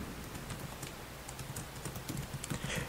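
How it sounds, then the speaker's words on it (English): Fast, continuous tapping on a computer keyboard fills the stretch in quick irregular bursts, moderately close and fairly soft, with no talking over it. "I'm not good at typing and talking at the same time"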